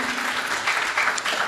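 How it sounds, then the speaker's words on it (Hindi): Audience applause at a Hindi-Urdu poetry recital (mushaira) in Mumbai, a steady dense clatter of clapping filling the hall for a brief moment without a break. "एक बार और जोरदार तालियां इस बात के लिए"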